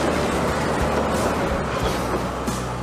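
A small Rottnest Island railway train in Western Australia, tram-like in size, rumbles steadily along the rails with a constant clattering roll, close by, with no voices.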